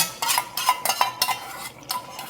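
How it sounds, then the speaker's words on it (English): A spoon scrapes and clinks in a pot while a ketchup and soy sauce mixture is stirred into brown stew chicken, giving a few quick rhythmic strokes, close and clear. "Stir it in."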